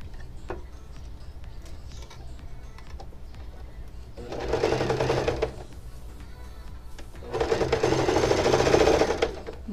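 Sewing machine stitching a fine hem on tulle for a blouse, with two loud running bursts of rapid stitching separated by quieter pauses with faint handling noise.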